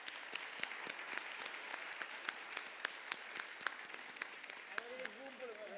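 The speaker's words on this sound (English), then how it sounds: "So let's give him a round of applause," An audience at a livestreamed event claps, a sustained round of applause with sharp individual claps, and a voice briefly speaks near the end.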